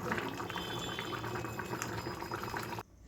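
Water poured into a pan of jackfruit curry (kalia) on a gas stove, a steady close sizzling, bubbling pour that runs continuously for nearly three seconds before stopping abruptly.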